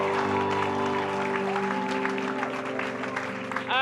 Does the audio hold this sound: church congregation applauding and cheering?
yes